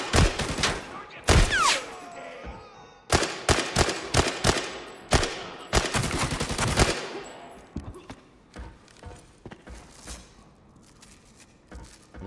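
Gunfire in the online shooter game Arena Breakout: loud, dense bursts of automatic fire that thin out to scattered single shots and thumps, with no voices over them.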